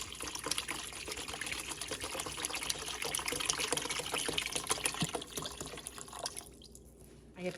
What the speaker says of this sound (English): I have a 32-ounce chicken broth here that I'm gonna be adding. I'm gonna pour this whole thing in here.